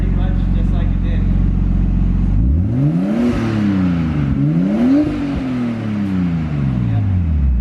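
Nissan Skyline R33 with a new test pipe fitted, its engine idling and then revving up and down in two rising and falling pulls, close and loud, with people talking over it.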